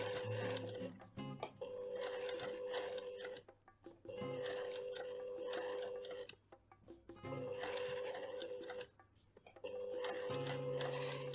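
Sewing machine stitching a patchwork appliqué, bursts of rapid even stitching broken by short pauses, close and fairly loud with a low motor hum underneath.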